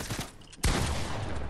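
Shotgun blasts from a buckshot weapon in the video game Fortnite: a sharp, loud shot hits abruptly after a quieter stretch of background noise and leaves a dense, sustained roar of game action.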